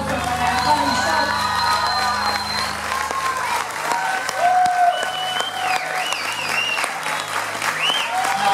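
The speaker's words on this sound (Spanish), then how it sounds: "aplauso para Pan Shop." Audience applause at an unplugged concert, steady loud clapping mixed with cheers and a few shouts, continuing throughout while a voice speaks briefly over it.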